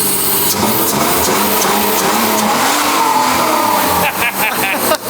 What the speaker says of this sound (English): You should give it a little rev again.